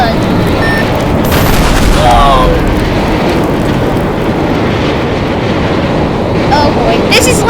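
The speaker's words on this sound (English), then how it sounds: "Ooh, the Armageddon railgun." In the Teardown video game, the Armageddon railgun fires as a loud, continuous booming roar with crackling debris and scattered metallic clanks. It sounds big and dense throughout, and there is no speech.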